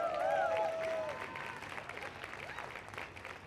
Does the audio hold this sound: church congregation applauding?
yes